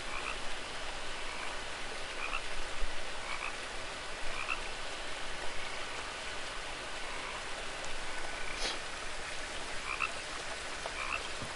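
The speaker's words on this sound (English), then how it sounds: "I hear frogs." Frogs croak in What Remains of Edith Finch, giving short repeated calls at a steady pace over a soft, constant hiss like rain.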